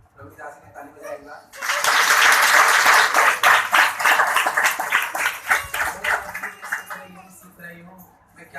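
A congregation at a prayer hall breaks into loud, sustained clapping. It starts suddenly, holds for several seconds, then tapers into scattered claps. Quieter talk comes before and after.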